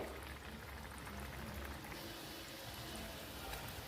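Semolina and potato vadas frying in hot oil, a steady soft sizzling and bubbling crackle that stays even throughout, faint and close with no talking.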